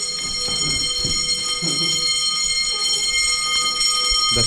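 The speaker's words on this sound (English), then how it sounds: "How is the fire alarm gone off?" A fire alarm sounds in an abandoned office block, a steady high electronic tone held throughout over faint room noise, footsteps and brief murmurs.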